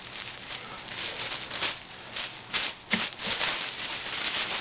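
Masking tape is pulled and pressed onto a board, giving close rubbing and rasping strokes with a few brief peeling bursts over a steady hiss, moderately loud and without talk.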